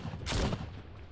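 Gunfire in The Walking Dead: Saints & Sinners Retribution, a short loud burst of shots peaking in the middle and fading into a quieter tail, heard alone.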